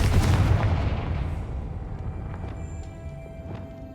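In Hogwarts Legacy, the Confringo fire spell lands with a heavy booming blast, and its deep rumble fades slowly over several seconds beneath faint game ambience and a few light ticks.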